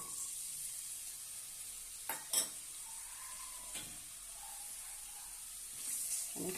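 Sliced onions and cumin seeds fry in hot oil with a steady, fairly quiet sizzle, punctuated by a few brief spoon-stirring clinks and scrapes near the middle and end; no one speaks.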